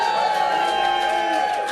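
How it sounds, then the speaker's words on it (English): An audience at a live improv comedy show sends up a short swell of crowd voices, cheers mixed with boos, moderately loud and continuous for under two seconds. "Audience, cheer if you agree with Dan or boo if you disagree with Dan."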